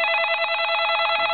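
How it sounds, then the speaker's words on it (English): A Radio Shack ET146 two-line telephone rings with a continuous warbling electronic trill, close and clear, alone and without voices. "our telephone is ringing"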